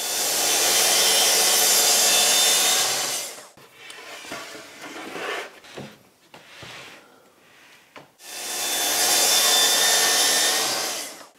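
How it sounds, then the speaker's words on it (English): A saw cuts through warped plywood clamped to a workbench to make car chocks: two long, loud, steady bursts of sawing, one at the start and one near the end, with quieter handling and bench noises in between. "when I make this cut, I'm risking it sort of tipping off the end there"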